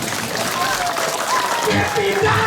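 Applause from a crowd at a Balinese temple ceremony, the Nyenuk Ngusabha Desa rite held in Tajen in 2024, forms a steady, dense wash, with voices and some tonal sounds mixed in throughout.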